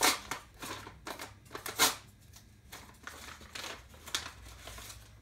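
Sheets of paper pulled from an opened envelope rustle and crinkle in quick, irregular bursts, with a few sharper crackles standing out against a quiet background.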